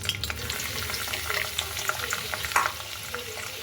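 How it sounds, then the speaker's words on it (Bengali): Sliced onions fry in hot oil for a cauliflower and potato biryani, a steady close crackling sizzle dotted with small pops and the occasional stir, with no voices. "ততক্ষণ পর্যন্ত আমি এখানে এই বেরেস্তাটা ভেজে নিই।"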